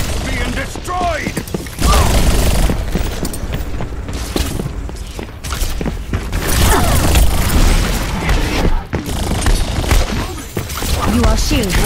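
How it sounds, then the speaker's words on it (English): Symmetra's sentry turret in Overwatch on the Hollywood map being shot apart amid heavy game gunfire, loud continuous blasts and impacts throughout with in-game voice lines over the top. "My turret's being destroyed!"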